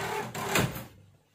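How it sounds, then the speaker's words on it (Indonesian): An indoor door is pushed shut, giving one brief muffled thud with a short rustle around it that fades into quiet. "sorry lagi tutup pintu dulu"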